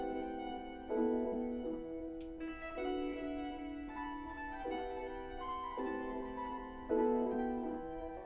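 Sustained synthesized piano chords shift every second or so, each new chord entering with a soft attack over ringing notes; moderate level, no voices.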